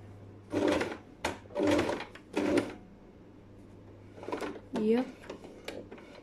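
A sewing machine stitches a sleeve placket in three short bursts of rapid whirring, then more quiet handling sounds and a brief spoken remark, all over a faint steady hum.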